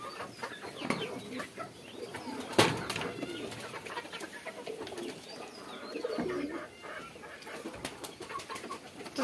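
Pigeons coo inside a pigeon house, soft and repeated, over a steady bed of bird chatter with one sharper flutter or knock near the start.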